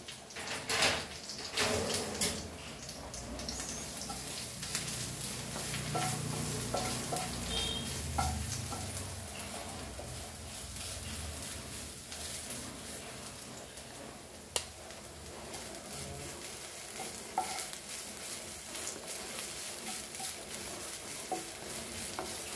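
Grated coconut roasts in a pan with a steady dry sizzle, broken by irregular stirring scrapes and clicks of a spoon against the pan; no voices.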